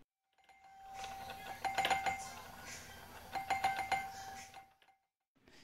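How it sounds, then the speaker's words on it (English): An Amcrest video doorbell on an undersized transformer chiming on its own, two clear ding-dong bursts in quick succession with a steady electrical hum in between. "the wife thought I was constantly pushing the doorbell button"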